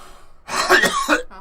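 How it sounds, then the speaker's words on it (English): A single harsh cough, close and loud, bursts out after a moment of near silence, with a short follow-up rasp. "the short one makes me cough too"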